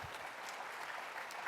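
Audience applause at a presidential candidates forum during a religious general assembly, a quiet, even spread of clapping from a crowd heard at some distance, continuous throughout.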